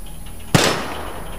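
A single sharp gunshot from a firearm in the video game Vigor, a loud close crack followed by a short decaying tail over a faint steady background hum, with no talking.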